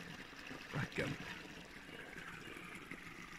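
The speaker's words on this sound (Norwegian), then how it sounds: "Den der bekken" A small forest stream trickles and babbles steadily in the background at a low level, with a brief louder patch of movement or voice near the start.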